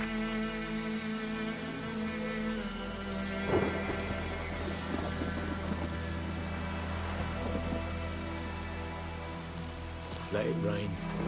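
Steady rain pours in The Witcher 3: Wild Hunt next-gen edition, with rumbling thunder cracks near the middle and again toward the end, set against a sustained musical drone.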